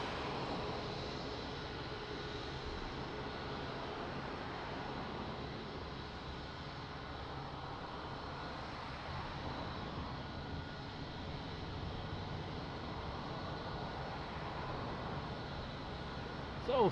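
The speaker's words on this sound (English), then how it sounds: "After that landing, amazing landing" An airplane on approach to land at Lisbon Airport roars steadily in the distance, with a constant broad engine drone throughout and faint talk under it.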